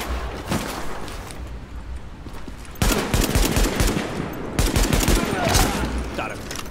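Gunfire in The Division during a field hospital mission, with loud, rapid automatic bursts that swell and pause over several seconds, alongside a faint voice.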